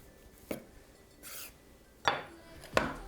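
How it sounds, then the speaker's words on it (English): Knife slicing fat from a cold, firm duck breast on a board in a kitchen: a few sharp, separate cuts and scrapes spaced apart, close and fairly quiet, with no talking. "it's a lot easier to clean a duck breast when it's very cold because the fat is hard, cuts through easier"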